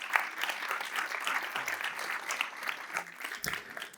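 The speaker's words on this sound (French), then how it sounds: "On peut les applaudir également, s'il vous plaît." Applause from the audience at a customer-satisfaction awards ceremony, fairly quiet and somewhat distant, rippling clapping with uneven bursts and a faint murmur of voices.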